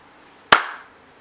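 A single sharp hand clap, close and loud, with a short ringing decay in a quiet room.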